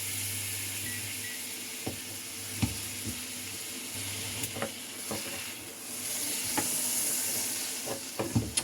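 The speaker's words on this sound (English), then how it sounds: "Got my pan here on the stove. Put in some butter and let that melt." Butter melting and sizzling in a pan on the stove, a steady, close frying hiss punctuated by scattered sharp pops and light clicks of a utensil against the pan, with no talking.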